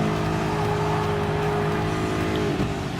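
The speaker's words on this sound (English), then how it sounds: "Ford GT LM Spec 2 race car is in the lead, ladies and gentlemen." Ford GT LM Spec II race car in Gran Turismo Sport, its engine droning steadily at high revs for the whole stretch, loud and continuous with a slight pitch dip near the end, no talking.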